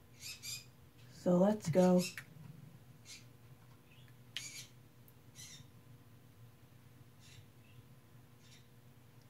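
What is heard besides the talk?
birds squawking in the video game Bratz Rock Angels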